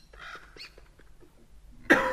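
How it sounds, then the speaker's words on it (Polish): A single loud, harsh cough bursts out close to the mic near the end from a man still getting over bronchitis, following quieter scattered sounds. "Z góry was przepraszam za wszelki kaszel."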